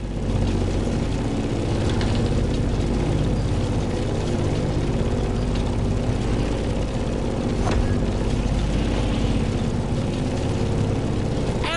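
A Grumman F8F Bearcat propeller fighter in The Crew Motorfest drones steadily and loudly in flight, a dense continuous engine roar with a brief swell and wind rush partway through.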